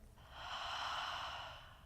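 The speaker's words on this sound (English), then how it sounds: "Exhale out your mouth." One slow, breathy exhale through an open mouth during a beginner yoga class, soft and close, swelling and then fading over about a second and a half with no talking.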